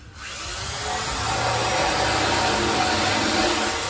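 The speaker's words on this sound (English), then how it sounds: "Let's taper the shaft first. Get it in your drill." An electric drill whirs up to speed and holds a steady high spin, with a light grinding rasp as it spins a wooden arrow shaft being tapered.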